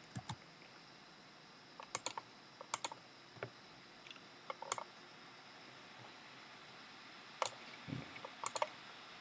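Keyboard shortcut keys pressed on a computer during an Excel session: scattered, faint, crisp clicks in small clusters separated by quiet gaps, close to the microphone.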